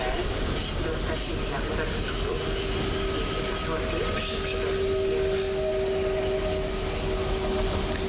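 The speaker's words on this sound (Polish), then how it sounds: "Pociąg UKD ze stacji Warszawa Śródmieście UKD" A UKD train rolls through Warszawa Zachodnia station with a steady, loud rumble of wheels on rail and faint tonal whines throughout. No talk is heard.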